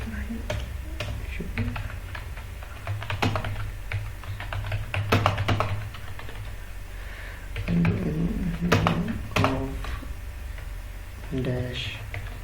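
Typing blanks into an MS Word paper on a computer keyboard, rapid uneven key clicks in bursts with someone talking over much of it in Hindi-Urdu.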